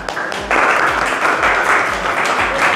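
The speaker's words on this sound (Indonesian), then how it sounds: "Tepuk tangannya." Classroom students burst into brief, loud applause after a group presentation, a dense wash of hand claps lasting a couple of seconds.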